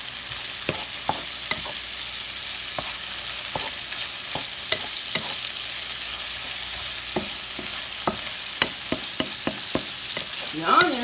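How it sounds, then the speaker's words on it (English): Bacon frying until crispy in a pan on a stove, a steady close sizzle broken by frequent sharp pops and crackles, with no voices. "You fry it like you're frying bacon for breakfast in the morning"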